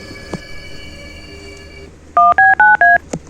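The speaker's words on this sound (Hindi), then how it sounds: "लगता है सीआईडी को फोन लगाना पड़ेगा।" Four crisp telephone keypad tones beep in quick, even succession as a number is dialled, loud and close over a quiet background.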